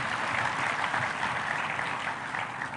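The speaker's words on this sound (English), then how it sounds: "Please clap for that boy." A school audience applauds a student speaker, dense steady clapping from a large crowd filling the whole stretch with no talk over it.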